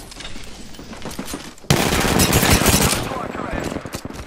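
Automatic weapon fire in the Apex Legends video game, a quieter stretch giving way to a sudden loud, sustained burst of rapid shots and impacts that crackle on for several seconds.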